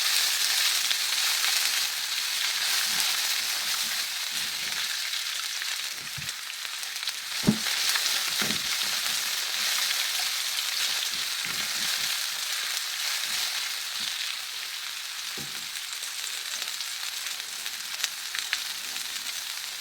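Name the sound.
green and yellow peppers frying and stirred in pan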